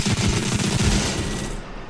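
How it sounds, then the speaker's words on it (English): Automatic red shotguns in the Robo Recall VR game fire a dense, continuous burst of rapid blasts, loud and close, with no gaps for about two seconds before tailing off. "now I should have red shotguns that shoot automatic"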